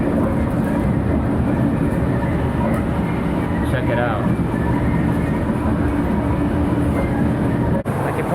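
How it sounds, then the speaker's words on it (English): A train in Bangkok rumbles past with a steady, loud roar and rattling wheels, and a brief voice speaks over the noise. "This train goes right past the mall."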